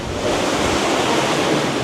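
Sea waves wash beneath a seaside spot in Cyprus, a loud, steady broadband roar of surf with some wind buffeting, no voices over it.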